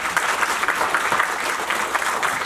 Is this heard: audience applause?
yes